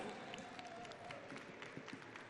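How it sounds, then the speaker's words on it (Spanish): Faint audience applause at a recognition ceremony, heard from a distance as a steady wash of many hands with a few sharper claps standing out. "Un fuerte aplauso de nuevo, por favor."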